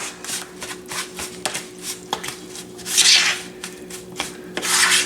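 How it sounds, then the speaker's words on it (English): A beaten egg is mixed into ground clams in a bowl, the clams having been ground in an antique food grinder. Steady wet rubbing and scraping strokes run close and moderately loud, with a few louder swishing bursts and no voices. "so I'll go ahead and mix the egg in this one"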